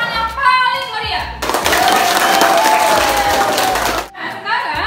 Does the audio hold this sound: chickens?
no